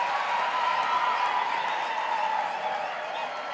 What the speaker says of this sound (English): I thought parents will applaud.